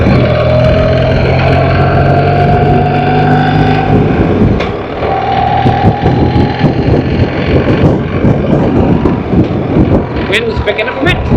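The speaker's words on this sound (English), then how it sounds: "Wind's picking up a bit, so the weather's coming in slowly." Wind roars and buffets continuously around a rider on a BMW R1300GSA motorcycle, loud and close to the microphone, with engine and road noise mixed underneath.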